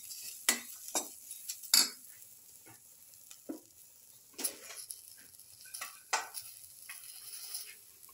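Salt being stirred into a fish brindleberry stew in a pot, with scattered light clinks of a spoon against the pot and a faint sizzle, close and fairly quiet.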